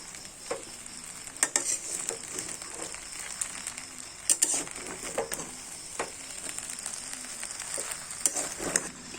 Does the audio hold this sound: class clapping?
no